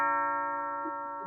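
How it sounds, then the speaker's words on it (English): A doorbell rings with a sustained electronic chime tone that holds steady and fades slightly, fairly close and loud, with no talking. "She's almost near the doorbell, y'all. Doorbell. Yeah, there she is. She's at the doorbell."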